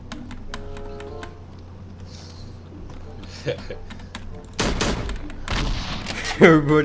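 Gunshots sound in the multiplayer game Slendytubbies 3 as a few sharp shots and short bursts at moderate loudness. They mix with key clicks and faint game noise, and a player's voice can be heard.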